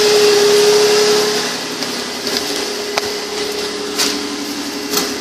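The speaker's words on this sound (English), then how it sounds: "The clunking is this tire turning because the tire rod's not hooked up." Rhythmic clunking from the front wheel of a 2005 Nissan Quest SE as the tire turns with its tie rod unhooked, a steady mechanical rumble with a few sharper knocks, close by and with no talk.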